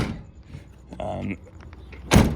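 Tailgate drop-down step on a 2021 GMC Sierra 3500HD Denali crew cab pickup, heard as soft mechanical clicks and a motor-like whir under someone talking, ending in a loud, solid thunk.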